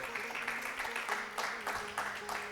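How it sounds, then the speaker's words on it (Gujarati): Audience clapping to honour a guru at a Swaminarayan religious gathering, moderate rhythmic applause from a seated crowd with a faint sustained tone underneath, steady and fairly soft. "એવા તાળીઓથી આપણે ગુરુજીને વધાવીએ"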